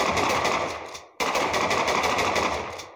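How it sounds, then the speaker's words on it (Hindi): A minigun in the video game Room Smash firing a continuous, loud, rapid stream of shots that briefly cuts out after about a second, then resumes and gradually fades. "इस बार मिनी गन खाओ ये चला"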